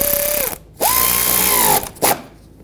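A power tool drives screws into the plastic inner fender liner of a 2013-2020 Nissan Pathfinder in three short, loud, close whirring bursts with brief pauses between them, each rising slightly in pitch as the motor spins up.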